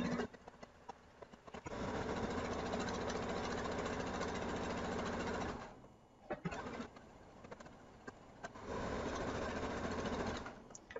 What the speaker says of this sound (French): J'essaie de coudre le plus droit possible.